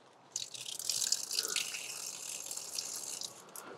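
Water running out of a fitting on a cabin deck build, a steady close trickle and splatter with small drip-like spikes, fairly faint and continuous for several seconds with no talking over it.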